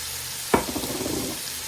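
Onions and carrots hit a hot pot for a stracotto pot roast, a sharp burst of sizzling as they drop in, then a softer crackling fry settling over a second, close and without talk.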